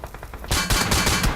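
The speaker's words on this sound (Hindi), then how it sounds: "गोली पे गोली चल रही है हर तरफ से।" Gunfire in the video game BGMI, first a quieter burst of rapid shots, then louder close automatic fire that breaks into sharp cracking bursts from several directions.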